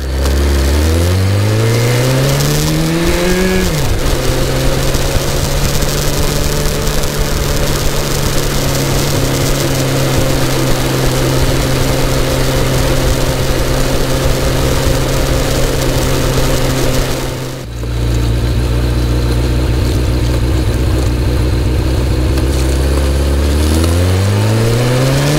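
A 1986 Suzuki GSX-R1100 motorcycle engine revs through rising gear pulls while riding, a loud steady drone with a brief dip partway through before climbing again, heard close with no talking.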